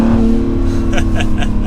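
An Acura NSX hybrid supercar accelerating on its electric motors in a parking lot: a brief, close, rising motor whine and whir that builds over a couple of seconds.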